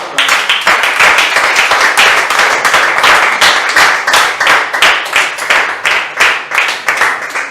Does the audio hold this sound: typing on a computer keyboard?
no